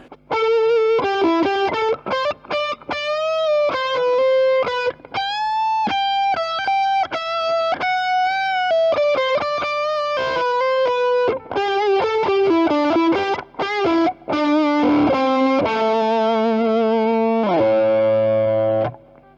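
An electric guitar through a Keeley Katana Blues Drive overdrive pedal plays a loud, distorted lead line of quick single notes and bends, closing with sustained chords that ring out.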